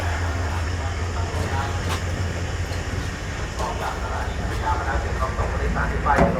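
A Thai passenger train near Pattaya gives a steady low rumble with rattling and clacking, continuous and fairly close, with brief sharper knocks throughout.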